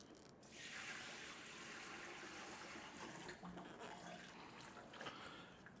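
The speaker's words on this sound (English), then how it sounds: "So we're going to need to fill this with water." Water runs steadily into the tank of an L&R SweepZone ultrasonic cleaner, making a continuous faint splashing hiss that lasts for several seconds.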